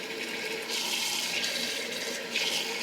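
Water pours steadily into a cooking pot for samgyetang, a continuous close gushing splash that swells slightly partway through, with no talking.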